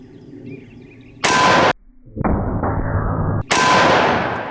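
A .500 S&W Magnum snub-nose revolver fires at a steel target about 10 yards away: two very loud, close blasts with a sharp ring after each, and a lower rumble between them.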